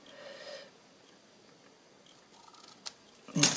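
Scissors snip ribbon ends on a stocking stuffer gift box bow, a few soft close cuts followed by a sharper, louder snip at the end.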